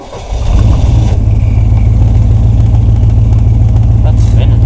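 Old redneck Ford Bronco engine cold start: a short starter crank catches into a loud, steady, rumbling idle close by, with people talking over it.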